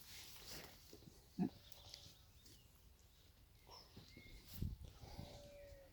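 Pigs on a farm, including a gilt and a boar, giving a few short grunts and snorts at moderate distance over quiet outdoor background, with one louder grunt near the middle and another toward the end.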